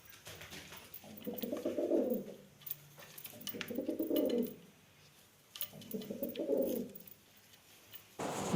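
Pigeons of a Punjab breed cooing softly in three slow, rounded phrases with short pauses between them, close by and fairly quiet, with no speech.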